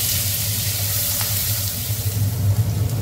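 An onion mixture fries in hot oil in a pan, giving a continuous, soft, hissing sizzle with faint stirring scrapes near the end. No one speaks.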